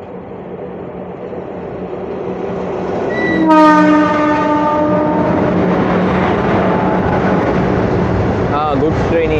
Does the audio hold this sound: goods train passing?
yes